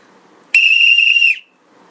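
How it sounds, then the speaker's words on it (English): A single loud, piercing whistle blast lasting just under a second, sharp and shrill against near silence. "The sound of a whistle is loud, obnoxious, and it demands attention."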